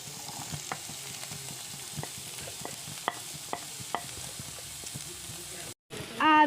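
Onion and chopped ginger stir-fried in a pan, a steady close sizzle with scattered clicks and scrapes of a spoon stirring, a brief dropout near the end, then a louder burst.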